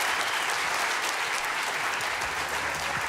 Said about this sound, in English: How about a big round of applause for Mr. Rick Romley?